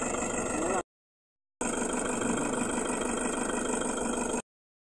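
A Toyota Hi-Ace engine idles steadily at close range, its continuous hum cutting out briefly before resuming, with no voices over it.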